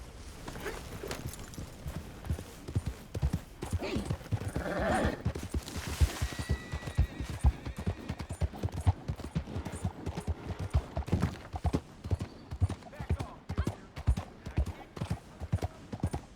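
Rhythmic hoofbeats clip-clop steadily as a horse trots along in the video game Red Dead Redemption 2, with a brief whinny early on and faint voices in the background.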